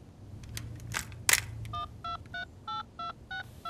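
A cartoon telephone is dialed in Winx Club: a few soft clicks and a sharp tap, then a steady series of about seven short electronic keypad beeps, close and clear with no speech.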